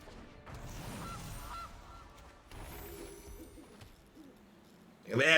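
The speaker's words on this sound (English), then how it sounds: "It's a very angry goose." An angry goose honks in the Magic Arena digital card game, a short loud squawk bursting out at the end after a stretch of quieter game sounds.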